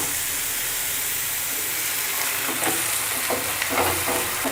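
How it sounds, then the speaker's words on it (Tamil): Chicken pieces frying with onions in a pan for a chicken gravy masala, a steady close sizzle and hiss with a few faint stirring clicks toward the end, no talking. "இந்த சிக்கன் வந்து இந்த ஆனியனோட நல்லா ஃப்ரை ஆகட்டும்"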